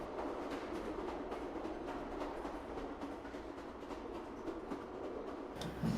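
A train rolls steadily along its rails, making a continuous low rumble with faint rhythmic clatter, close and even throughout with no talk.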